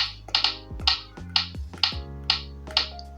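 Fingertips tap a Poco M3 Pro phone screen playing the Real Drum game, each tap landing with a kick-drum thump in a steady beat, about seven hits, close and clear with no talking.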